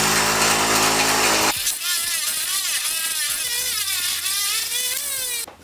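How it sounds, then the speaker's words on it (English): Steady loud whine of a buffing wheel polishing a BMW K100 motorcycle valve cover with black emery cutting compound, its pitch shifting as the metal is pressed and worked, cutting off abruptly near the end. "Okay, I did a quick buff on this"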